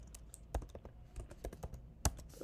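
Fingers tap out code on a computer keyboard for a Swift programming tutorial, a quiet, close run of irregular clicks with one sharper keystroke near the end and no voices.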